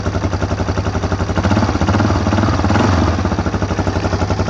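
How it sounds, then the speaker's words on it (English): Yamaha Warrior 350 ATV engine running steadily after starting with a rebuilt starter, a loud, close, rapid thumping single-cylinder idle with a harsh mechanical rattle that stays constant throughout. "Didn't even need the choke to start either."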